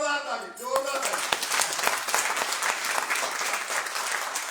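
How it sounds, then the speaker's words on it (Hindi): Loud sustained applause from a seated audience at a training event, dense clapping that starts after a brief voice and continues steadily to the end. "एक बार जोरदार ताली, जोरदार ताली।"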